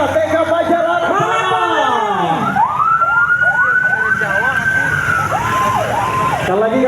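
Ambulance siren wailing loudly and continuously at close range, sweeping up and down in repeated rising and falling cycles at an outdoor cultural performance event.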